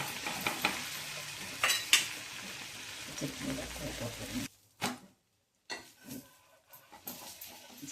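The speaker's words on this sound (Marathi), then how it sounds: "आपण जरा परतून चांगला छान खमंग भाजून घेऊया. दोन्ही बाजूनी छान भाजून घ्यायचा." Onion uttapam frying in melted butter on a pan, a steady sizzle with occasional scraping and turning clatters, then a sudden brief silence before quieter sizzling and light taps resume.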